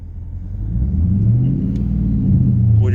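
A Ram truck's V8 Hemi rumbles low and steady, its engine note rising slightly as it revs with the brake held for a burnout, close and continuous.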